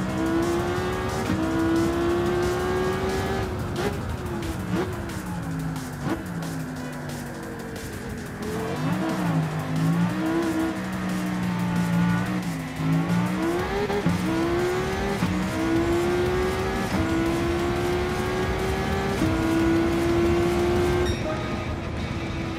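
Race car engine and tires in Gran Turismo 7 on the Trial Mountain circuit: a loud, continuous engine note rising and falling through gear changes, with tire squeal in the corners, no talking.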